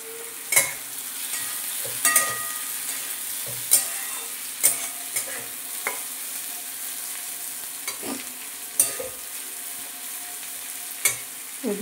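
Chopped carrots fry in a pan for a Bengali bagan chorchori vegetable dish, with steady sizzling broken by sharp spatula scrapes and stirring clatters every second or two, close and clear with no talk.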